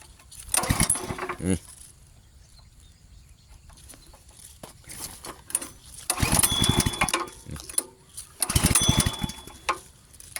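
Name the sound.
water pump engine starting up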